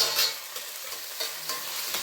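Onions frying in oil in a pan for a tomato gojju, a steady soft sizzle with a few faint stirring scrapes, heard alone and fairly quiet.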